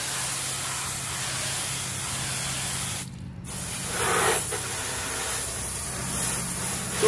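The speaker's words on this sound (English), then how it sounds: "I'm gonna go ahead and rinse the areas around the fender well and see if it took off the grime." Water spray rinses a car wheel and fender well after a non-acid gel wheel cleaner, a steady loud hiss running throughout with one brief break near the middle.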